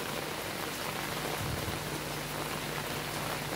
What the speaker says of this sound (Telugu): ఒక పక్కన వర్షం పడుతుంది